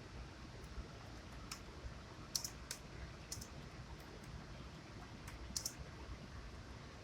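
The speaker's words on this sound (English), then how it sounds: "I'm typing it up." Typing on a computer keyboard: scattered light clicks and short bursts of keystrokes, fairly faint against a steady background hiss, with no talking.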